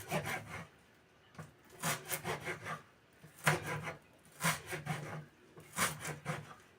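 A knife chops green onions finely on a board in quiet, close clusters of quick rhythmic strokes with short pauses between the groups.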